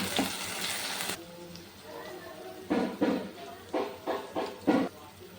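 Onions and spices fry in a pan for a fish-head curry, a soft sizzle and hiss broken by a few short bursts of stirring, with a person speaking over the cooking.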